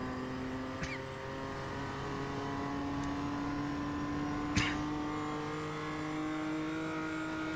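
BMW M2 race car running on a track during a cup race, a steady engine drone heard from a distance with faint brief clicks and no voices over it.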